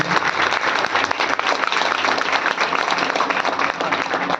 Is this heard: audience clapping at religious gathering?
yes